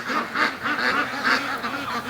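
Free-range ducks at a lake give repeated quacking calls in a steady, rhythmic series, fairly close and moderately loud with no talk over them.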